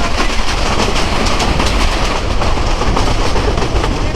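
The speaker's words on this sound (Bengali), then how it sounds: "একদম বালুর ঝড় তুলে বুড়িবাড়ি এক্সপ্রেস ট্রেন এখন বিমানবন্দর রেলওয়ে স্টেশনের এক নং প্ল্যাটফর্মে প্রবেশ করলো" The Burimari Express rolls into platform one at Airport railway station, a loud, close, continuous roar of wheels with steady clickety-clack over the rails and no voices.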